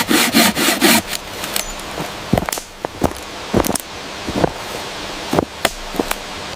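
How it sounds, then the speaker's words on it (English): A folding saw cuts wood outdoors, a burst of quick rasping strokes at first, then scattered scrapes and knocks, close by with no voices. "a good folding saw is essential for clean cuts"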